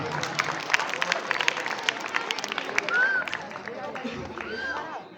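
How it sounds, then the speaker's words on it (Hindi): An audience at a school annual function bursts into loud, dense applause welcoming an elder, with steady clapping filling the whole stretch and a few voices and cheers rising over it. "एक बार जोरदार तालियों से स्वागत।"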